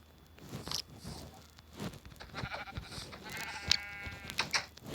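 A sheep bleats in a video game while the player gathers diamonds and improves a house. One short, clear bleat rises from a background of light game sounds and soft crunches.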